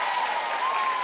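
A studio audience at a Brazilian TV variety show claps in a brief, dense burst, steady and fairly loud throughout.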